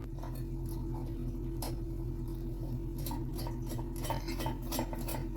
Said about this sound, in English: let me just put the lid back on